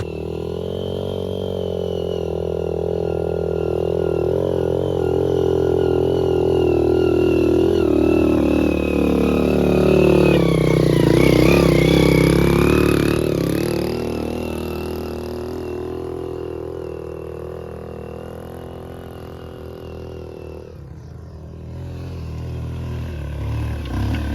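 A Honda motorcycle engine idles steadily, its rumble swelling as the revs rise midway, then settling back to a lower idle; no talking.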